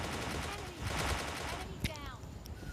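PP submachine gun fire in PUBG Lite, a quick burst of close shots mixed with game effects and sounds, with a voice talking over it in places.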